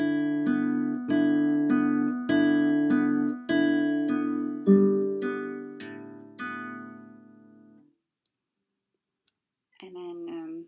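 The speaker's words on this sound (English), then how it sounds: "So when you're practicing the plucking pattern without any notes," Classical guitar plucked on open strings only, no fretted notes, in a repeating arpeggio pattern: a steady run of about nine even plucked strokes ringing out and fading, then a short pause before a brief strum returns near the end.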